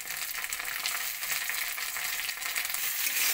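Chopped tomato sizzles steadily with onion in a hot pan while cooking ghugni with chickpeas, a dense continuous frying hiss with light crackle and no voices.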